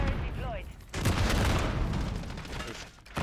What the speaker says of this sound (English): I'm getting rocket launched, I'm getting grenaded.